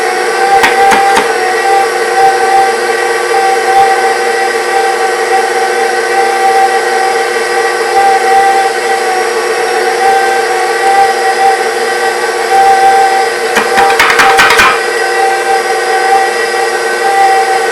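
A meat grinder runs with a steady, loud mechanical whine and hum as it grinds pork for breakfast sausage, with a couple of brief clanks near the start and again later, and no talking.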